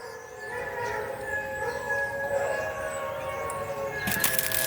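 Several dogs in a neighbour's house down the street howl together in long, wavering, siren-like tones, heard from a distance over steady background noise, with no talking.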